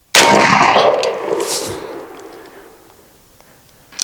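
An air shotgun fires a single shot shell at a left-side target, a sharp close report followed by a ringing clang and a long fading decay, with no talk.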